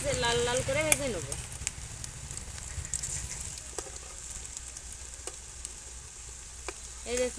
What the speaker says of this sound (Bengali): পকোড়াগুলো এবারে উল্টে পাল্টে ভালো করে ভেজে লাল লাল করে ভেজে নেব।